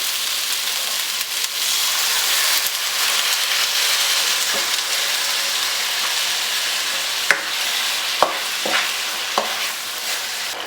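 Beef sauté marinated with flour sizzles loudly in a frying pan after water is added, a constant hissing fry broken near the end by a few sharp utensil clicks and scrapes.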